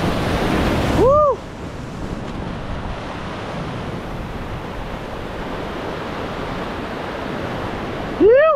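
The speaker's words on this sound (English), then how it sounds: "the waves are just massive" Large ocean waves break and wash steadily in the background, a continuous loud roar of surf with wind noise on the microphone, the setting a shoreline where a fish is being released.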